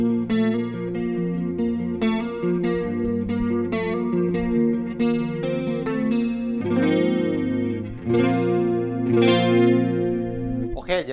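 Electric guitar played through a Valeton Coral Mod modulation pedal set to chorus, giving a bright, clear, slightly sharp shimmering tone as chords ring and change steadily, close and loud with no talking.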